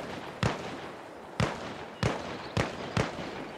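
Five sharp gunshots ring out in the video game ARMA Reforger, spaced unevenly over a few seconds, each a loud, punchy crack with a short decaying tail, heard against quiet ambient background with no talking.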